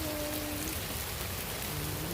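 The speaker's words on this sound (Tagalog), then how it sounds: "Dito kami sa umuulan siya." Steady rain falls outdoors in Iloilo, a dense, even hiss of drops on surfaces that continues without a break, close and fairly loud.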